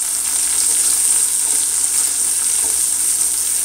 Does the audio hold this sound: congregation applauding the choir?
no